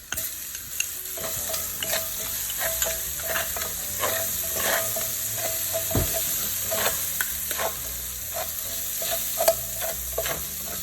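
Garlic and shallot sizzling in a pan alongside seared oxtail, with a steady loud fry and frequent scraping stirs that clack and rustle throughout.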